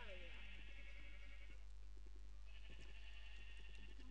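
Minecraft sheep bleating in the game, a few wavering bleats at the start and again later, with game sounds and speech underneath.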